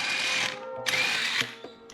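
An impact gun or drill zips off car wheel nuts in two short, loud, whining bursts, followed by faint clicks, close up in a garage.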